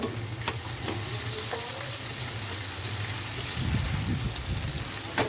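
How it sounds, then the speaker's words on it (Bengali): Tomato going into a pan of browned, reddened onion sets off a steady sizzle and frying hiss, with a few stirring scrapes and a louder bubbling burst near the end, close by and without talk. "দেখুন পেঁয়াজটা আমার লাল হয়ে গেছে, এবার আমি টমেটোটা একটু দিয়ে দেবো।"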